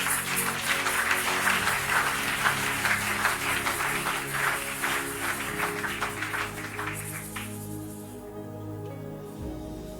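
A church congregation applauds in a dense, sustained wash of clapping that holds for about seven seconds, then thins and dies away over a low tonal hum.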